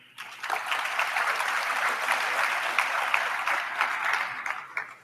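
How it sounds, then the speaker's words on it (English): A crowd at a University of Johannesburg graduation ceremony applauds, the clapping rising quickly and holding as a dense, sustained patter for several seconds before easing off. "I think you should give them a round of applause."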